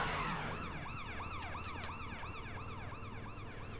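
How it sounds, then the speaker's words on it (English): A wailing ambulance siren in The Crew racing game sweeps up and down in quick repeated cycles over the hum of a car engine, steady and fairly loud throughout. "Ambulance!"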